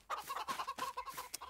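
Chickens clucking in the farming game Farming Simulator 22, a steady run of short, close clucks and squawks repeating in quick succession with no talk over them.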